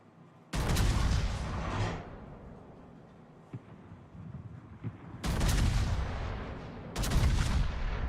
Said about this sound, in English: I'm going to shoot the Yorktown.